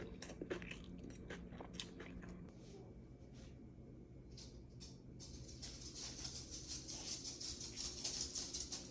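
Crunchy fresh lumpia, a Filipino spring roll, chewed close up with repeated crisp bites and mouth noises, then a steadier crackling crunch toward the end over a faint background.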